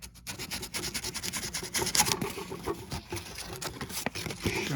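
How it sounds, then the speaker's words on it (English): Fine-grit sandpaper rasps back and forth across a metal part of an old garage door opener. The strokes are quick, rhythmic and quiet, close up with no talk. "So we're gonna sand this down a little bit. A little fine grit."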